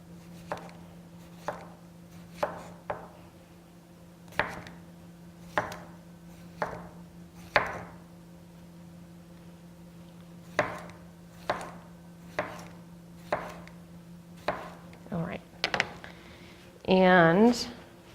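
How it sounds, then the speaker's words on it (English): A knife slices a cucumber into very thin circular rounds on a cutting board, giving a steady series of crisp, close chopping taps that ends with a brief clatter. "So first what we're going to do is take the cucumber. We're just going to make very thin little circular slices."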